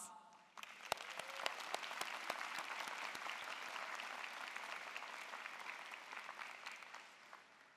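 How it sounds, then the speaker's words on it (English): At a university spring commencement, a large crowd applauds for several seconds, a broad, even roar of clapping with a few sharper nearby claps standing out at the start. "Give yourselves and your beloveds a round of applause."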